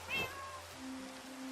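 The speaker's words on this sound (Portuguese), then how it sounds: "Y cuando te pegan hacen como gatos." Cat boots in a video game let out a single short meow when the wearer gets hit, heard close and clear, followed by faint steady game tones.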